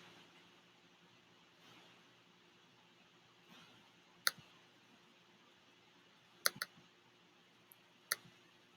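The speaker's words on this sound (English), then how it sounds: "So you can just click on starred." Isolated computer mouse clicks sound while browsing Google Drive, a few sharp, close taps spaced apart with a double click in the middle, over a faint steady room hum and no talk.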